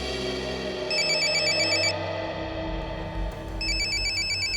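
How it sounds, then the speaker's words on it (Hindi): Phone ringtone on an incoming call in a CID crime drama scene: two bursts of repeating electronic ringing separated by a short pause, loud and clear over a low background music bed, with no talk. "किसका फोन है?"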